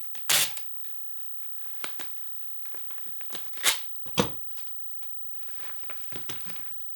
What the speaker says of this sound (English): Now I'm just going to tape it together.